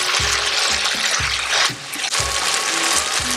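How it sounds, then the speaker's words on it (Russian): Sauce with sugar poured into a hot wok for Kung Pao chicken, a loud continuous hissing sizzle with rhythmic low pulses of liquid splashing, close up and with no talk. "Теперь вливаю соус с сахаром."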